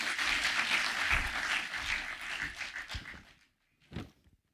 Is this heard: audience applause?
yes